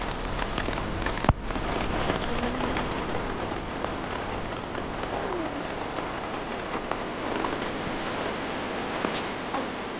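Steady, dense hiss of rain falling on a mountain hiking trail toward the summit of Mount Sicapoo, continuous and close, broken by one sharp knock early on.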